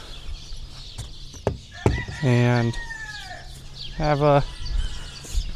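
Farm chickens cluck and call in two short, loud bursts at close range, with a person speaking between them and soft background noise.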